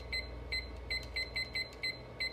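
A kitchen-style timer being set for ten minutes gives a quick series of about seven short, evenly spaced high beeps, clear and close with no voices.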